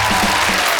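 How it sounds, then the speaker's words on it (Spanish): A studio audience on a Colombian television show claps briefly for a man painting live, a short, loud, dense burst of applause. "Un aplauso para él mientras pinta."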